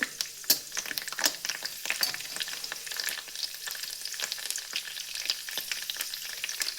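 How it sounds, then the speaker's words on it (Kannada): Mustard seeds, cumin and curry leaves fry in hot oil, giving a continuous crackling sizzle dotted with sharp pops and spits, close and steady throughout with no talking. "ಇವಾಗ ಎಣ್ಣೆ ಬಿಸಿಯಾಗಿದೆ, ಸಾಸಿವೆ ಜೀರಿಗೆ ಹಾಕ್ತಿದ್ದೀನಿ. ಇವಾಗ ಇದಕ್ಕೆ ಕರಿಬೇವು ಸೊಪ್ಪು ಹಾಕ್ತಿದ್ದೀನಿ."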